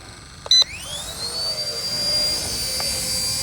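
A radio-controlled helicopter spooling up for takeoff: a couple of short beeps, then a motor and rotor whine that climbs steeply in pitch and settles into a steady, loud, close drone, with no talking.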